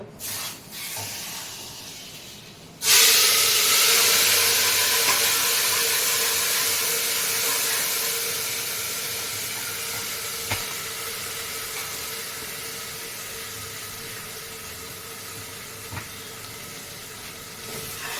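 Ground spices pounded in a mortar hit hot oil for a tadka, bursting into a loud, sudden sizzle that then settles into a steady, gradually fading hiss with a few faint clicks.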